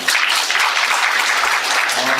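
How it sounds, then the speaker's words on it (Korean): An audience at a housing policy briefing session breaks into brief, dense applause, a steady wash of many hands clapping at once. "지금 신속통합계획에 대해서 열심히 설명해 주신 우리 신대팀장님 뜨거운 박수 부탁드리겠습니다."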